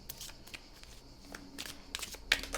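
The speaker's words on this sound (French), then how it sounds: "moi je continue de brasser les cartes" Tarot cards being shuffled by hand in a quiet indoor setting, a run of soft riffling and slapping bursts at an uneven pace, close and fairly faint with no talk.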